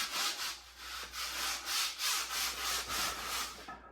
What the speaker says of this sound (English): not all gyms might not have a bar scrubber like this